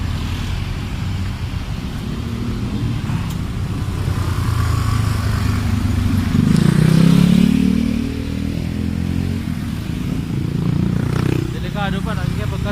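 Steady road traffic with motorcycles and cars passing close by on a busy street, a loud continuous engine roar that swells as a vehicle revs past mid-way, with people talking over it.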